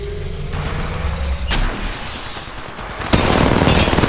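Gunfire in a ranked shooter video game, loud, close bursts of rapid shots and sharp cracks that swell into a sustained barrage near the end, with no talk.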